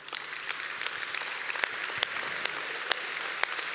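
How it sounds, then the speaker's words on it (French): Sustained audience applause at the launch of a digital commons conference, a steady wash of many hands clapping with a few sharper individual claps standing out, moderately loud and unbroken. "je pense qu'on peut vous applaudir de votre présence"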